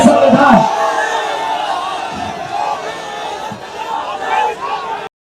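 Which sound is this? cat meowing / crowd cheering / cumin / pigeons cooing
crowd cheering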